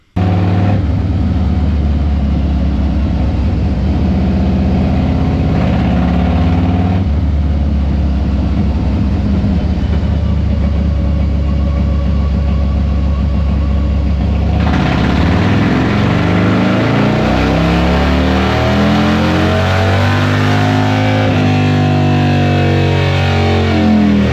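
A Harley-Davidson Fat Bob with a 128ci engine runs on a dyno, its loud, continuous rumbling drone rising and falling as the engine is revved, with a shift in pitch partway through.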